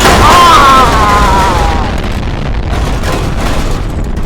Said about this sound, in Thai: ใครมันระเบิดวะเนี่ย